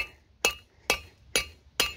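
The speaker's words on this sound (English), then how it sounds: "what you're gonna do is take your hammer here" A hammer strikes an old lug nut on a wheel hub during a 1993 front locking hub and brake job, four sharp metallic clinks at an even pace with quiet gaps between, close and alone.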